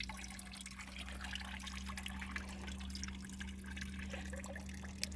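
A thin, steady trickle of salt water being extracted runs continuously alongside a low hum, with faint drips scattered through it.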